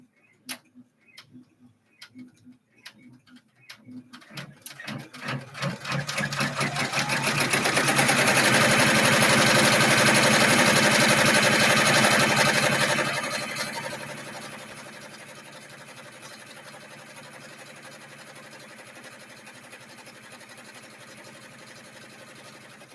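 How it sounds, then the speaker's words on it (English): A sewing machine stitches a patch onto a bag, starting with slow separate ticks, speeding into a loud steady whir for several seconds, then stopping and leaving a faint background hum. "So I'm going to go ahead and stitch that on."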